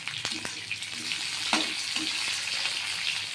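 Onions and capsicum sizzling in a hot pan, a continuous close crackle with a few sharp spatters and stirring clatters.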